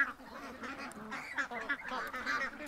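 A nearby duck gives a steady run of raspy, nasal quacks, several calls in quick irregular succession, loud and close with nothing else over them.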